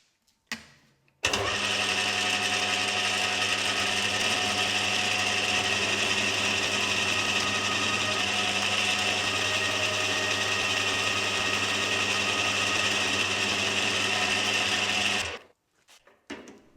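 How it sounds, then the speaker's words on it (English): An electric bandsaw cuts through a small metal lathe part clamped in a vise, running as a steady, loud continuous whine with a constant hum for about fourteen seconds before it stops abruptly. "take it to the vise and cut it off using my electric bandsaw"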